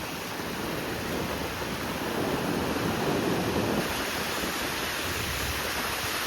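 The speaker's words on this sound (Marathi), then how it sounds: "बघा कसं लाटा येतात" Sea waves rolling onto Diveagar Beach in steady, continuous surf, loud and broad with a windy rush, swelling slightly toward the middle, with no voices.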